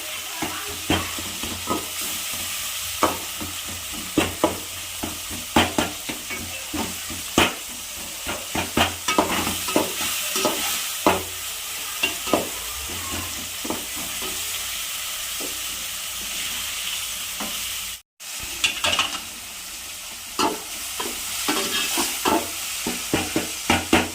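Tomatoes and onions with salt sautéing in a pan, a loud continuous sizzle broken by frequent sharp scraping and clacking stirring strokes, with a brief dropout partway through.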